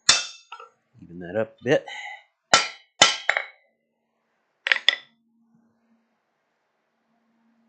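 A hammer planishing metal strikes with several sharp, ringing metallic clangs in quick irregular bursts, close and loud. Someone speaks briefly among the blows, followed by a quiet tail.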